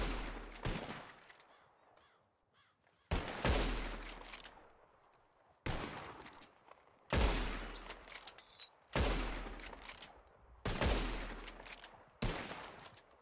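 Gunshots in Red Dead Redemption 2 while shooting birds out of the sky, six loud, separate blasts a second or two apart, each trailing off into a long echoing decay, with no voices.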